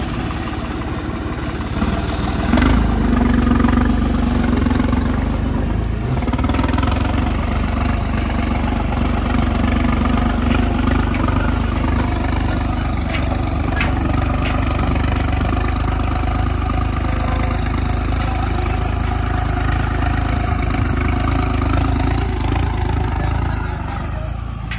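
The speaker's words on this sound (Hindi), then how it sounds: "चलो भाई, ट्रैक्टर को लेके चलते हैं दूसरे कोने पे।" A heavy diesel tractor engine rumbles steadily and loudly throughout during a paddy harvest, nearby, with a faint voice briefly audible over it.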